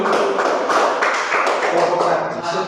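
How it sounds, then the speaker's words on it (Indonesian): A group claps hands together in a classroom, a steady run of overlapping claps lasting a few seconds, fairly loud and close. "Oke, mari kita tepuk tangan dulu."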